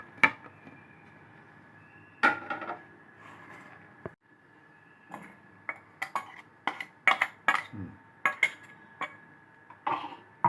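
A spoon clinks and scrapes against a metal bowl while ground moringa and curry leaf powder is mixed into chili spice powder for karam podi, with irregular sharp clatters close by and no talking.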